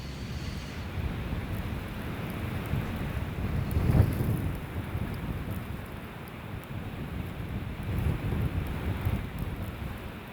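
A storm blows with steady wind and rain, a dense continuous roar that swells now and then, with no voices.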